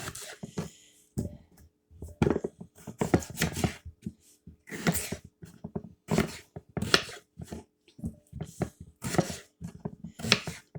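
Knife cutting potatoes into pieces on a board in a home kitchen, a series of sharp irregular chops and taps, close and distinct with short silences between cuts.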